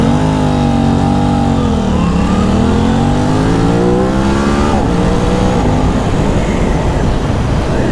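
A 2021 Aprilia RS 660 motorcycle engine under way, loud and close, its pitch climbing then dipping as it shifts gears, followed by a steady roaring rumble of wind and road noise.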